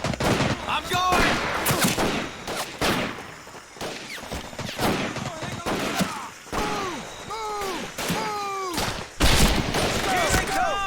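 Gunfire rattles from a Medal of Honor: Pacific Assault battle scene, with dense bursts of rifle and machine-gun fire and heavy thumping shots, mixed with whistling tones and shouted voices in a chaotic, continuous firefight.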